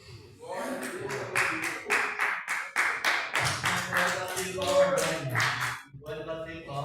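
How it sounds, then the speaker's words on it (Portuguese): A church congregation claps hands in a quick, regular rhythm, the sharp claps close and fairly loud. Voices sing or talk along with the clapping throughout. "Pode bater palmas"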